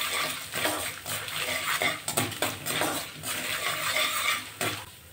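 Chana dal, urad dal and peanuts fry in a pan with a steady, close sizzle and crackle, broken by clinks of a spoon stirring against the metal.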